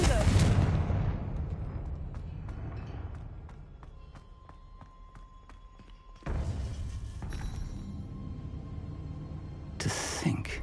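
The Confringo fire spell in Hogwarts Legacy hits with a loud burst and crackling blast that decays into ringing tones, then a second heavy explosive surge rumbles on, ending with another sharp impact.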